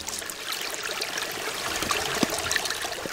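A clear mountain stream in a cold rural valley in winter flows in a steady, close rush of trickling water, with no voices.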